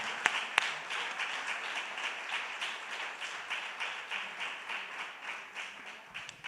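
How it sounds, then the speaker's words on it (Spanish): Congregation applause during a Spanish-language church sermon, fairly faint and steady with a few sharper claps near the start, continuing for several seconds. "dale un aplauso al Señor"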